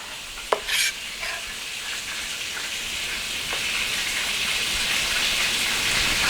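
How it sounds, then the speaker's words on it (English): A whole chicken sizzles and crackles in a hot pan with dense, rain-like frying noise that grows slightly louder. It opens with a brief clink and a stir, and no one speaks over it. "You hear all that sizzling and crackling"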